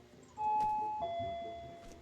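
A two-tone doorbell chimes once in a Spanish horror game built in Unreal Engine, a clear ding followed by a lower dong that rings out over quiet ambient hum.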